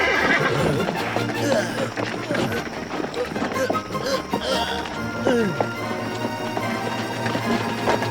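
Horses neigh and whinny in a vintage Tamil-dubbed Gulliver's Travels cartoon, loud repeated calls with hoof clip-clop and busy background noise, while voices shout over the scene.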